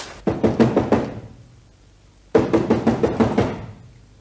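Two separate bursts of about five firm knocks each on a house door, loud and close, with a pause of over a second between the bursts, in a domestic drama setting.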